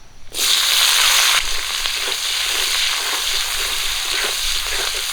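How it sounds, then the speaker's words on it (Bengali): Chopped onion and green chili sizzle in leftover mustard oil from fried catla fish in a wok, starting with a loud burst as they hit the pan and settling into a steady crackling fry with light stirring. "পেঁয়াজ আর কাঁচা লঙ্কা একটু লাল করে ভেজে নিয়েছি"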